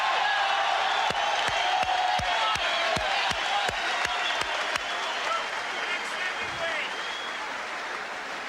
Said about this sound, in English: The crowd chanting the next heavyweight champion, Mike Tyson